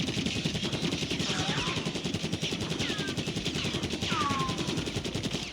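Sustained rapid automatic fire from a Krig C assault rifle fitted with recoil springs in the video game Warzone, a continuous burst of crisp shots with faint whistling tones between them.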